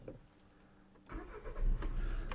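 A diesel 2010 Skoda Octavia A5 1.6 engine is quiet at first, then rumbles up about a second in and keeps running at a steady, close idle.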